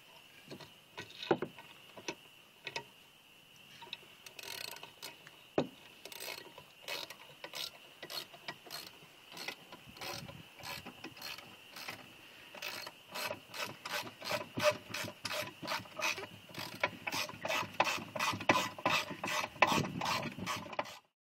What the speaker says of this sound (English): Take one of our lag bolts, start that right in the hole.